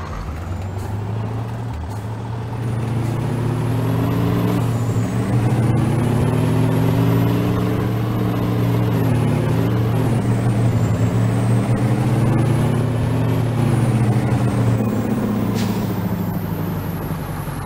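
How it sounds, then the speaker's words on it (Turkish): A truck engine drones steadily and loud in Farming Simulator 19, a continuous low rumble that swells slightly midway, with a faint air brake hiss and no talk. "Kamyonumu istiyorum."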